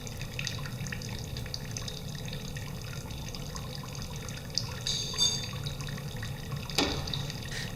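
Water drains from a pipette during a laboratory experiment, a steady faint trickle with scattered drips over a constant background hiss, continuing for several seconds.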